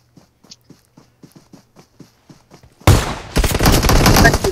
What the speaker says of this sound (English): It's a ray gun.